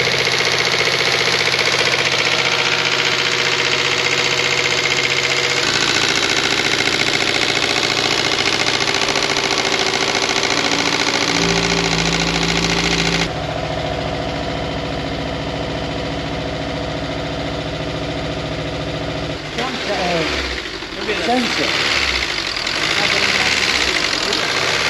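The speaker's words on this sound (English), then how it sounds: "I could hear actually the injectors. The injectors are going smooth." Honda S2000 engine idling steadily with a light ticking from its fuel injectors, loud and close throughout, with some rattling and handling noise toward the end.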